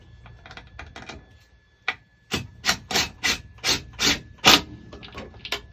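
A bolt on a KRX cab enclosure is tightened with a Phillips screwdriver and a 7/16 socket, making a quick run of close, crisp ratcheting and scraping clicks after a few softer taps.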